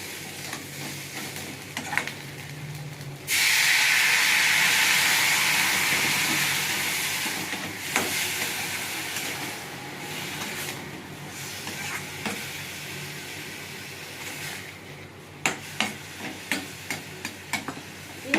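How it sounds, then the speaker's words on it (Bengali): Water poured into a hot pan of fried okra, potato and eggs for a Bengali chorchori bursts into a loud, sustained hiss and sizzle that slowly fades, followed by scattered clinks and stirring taps. "এবার আমি জল দেবো।"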